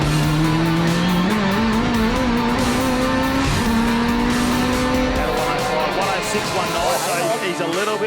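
A time attack race car pushes hard through the final corners of a lap at Sydney Motorsport Park, its engine droning loud and steady with rising and falling pitch, tires squealing briefly, under commentary voices.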